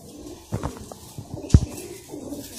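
High flyer pigeons cooing close by at a pigeon club, a few soft low coos and scattered rustles over quiet background.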